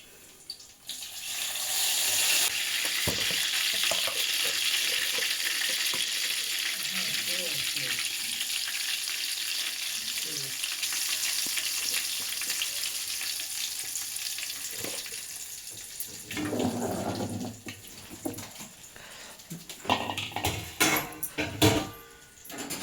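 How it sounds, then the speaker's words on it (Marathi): Bangda mackerel fries in a pan with a steady hissing sizzle throughout, joined near the end by clattering, stirring and running water, with a few quiet voices. "ही मच्छी आता तो फ्राय करणार"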